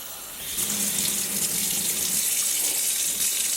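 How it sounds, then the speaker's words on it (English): Cool or lukewarm tap water runs steadily into a sink to rinse a dip-dyed knitted yarn blank, a constant close hiss of flowing water with no speech. "so I can use cool water or lukewarm water to start rinsing"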